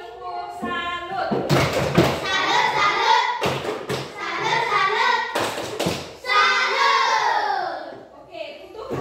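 A school class of children performs a chanted clapping routine in an Indonesian-language lesson, with loud rhythmic group claps and thumps punctuating their voices in bursts.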